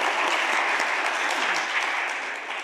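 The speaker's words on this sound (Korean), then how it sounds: "우리 박수 한번 해주세요" A church congregation gathered at a retreat claps together in dense, even applause that sounds close and full, then tapers slightly toward the end.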